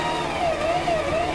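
An Elgin Genius sewing machine's motor whirs up under foot-pedal control, a short steady mechanical hum with a slight rising pitch, close and alone.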